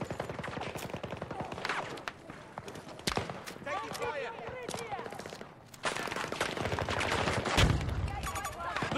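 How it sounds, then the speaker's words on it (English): Rapid bursts of automatic gunfire in a shooter video game, loud and continuous over several seconds, with a voice speaking among the shots. "Taking fire"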